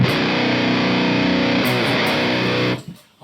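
Heavily distorted electric guitar through a tube amp plays loud, saturated chords for nearly three seconds, then cuts off abruptly into near silence.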